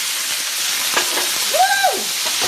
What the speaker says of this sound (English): Tamari or soy sauce, just hit the pan.